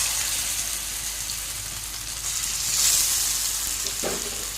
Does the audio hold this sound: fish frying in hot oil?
yes